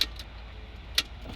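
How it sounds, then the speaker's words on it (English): A golf cart gives two faint, sharp clicks about a second apart over a quiet, low background hum. "You hear that little click right there?"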